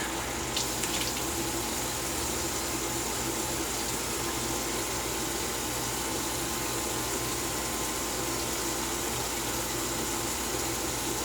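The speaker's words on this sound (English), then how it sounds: "let's do a full rinse" A tap runs in a steady, loud, unbroken gush for a full rinse during a double-edge razor shave with a Gillette Silver Blue blade, with no voices.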